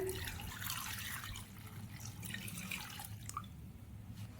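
Water poured over pieces of cassava in a cooking pot, a steady splashing and trickling that carries on through the whole stretch, easing slightly toward the end.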